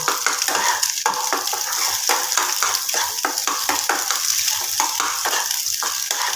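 Egg frying in a pan for potato-and-egg puli pitha, a steady close sizzle of hot oil broken by repeated scraping and stirring strokes of a spatula throughout.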